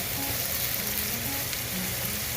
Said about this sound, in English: I add my garlic first, but I totally forgot, so I'm gonna add it now